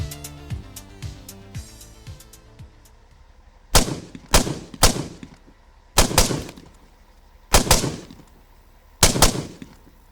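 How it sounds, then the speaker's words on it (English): A G33 assault rifle, an H&K design scaled down from the G3 and chambered in 5.56x45, fires in a video game's GM 1.5 update. A loud, close burst of single gunshots comes in clusters, each with a sharp crack and short echoing tail. "The G33 is essentially Germany's first post-World War II assault rifle."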